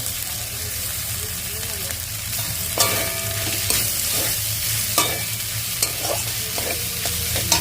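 Tomatoes hitting a hot pan of dried fish curry, a loud continuous sizzle with sharp spatula clanks and scrapes at irregular intervals, close up, with a faint voice in the background.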